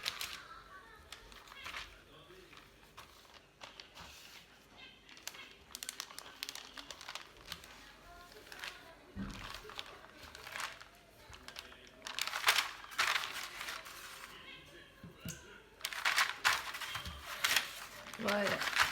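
Baking paper crinkles and rustles in quick bursts as brioche dough is gently rolled up in a kitchen. The crackling is close and intermittent and grows busier toward the end, with someone speaking softly at times.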